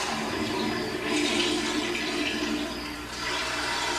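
A toilet flushes in a house, a steady rushing of water that swells and then settles as the bowl drains and refills, continuous for the whole stretch and fairly close, with no voices.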